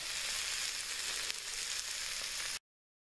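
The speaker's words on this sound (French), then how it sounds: "Bon, faut que je remue, ça va accrocher." Food sizzling and frying in a pan over a wood-burning camp stove, a steady close crackle with a faint stirring scrape, no voices.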